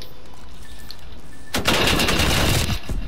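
Automatic gunfire in the video game Black Ops Cold War, one sudden loud rapid burst of shots that rattles for about a second and a half after a quiet start, close and alone with no talking.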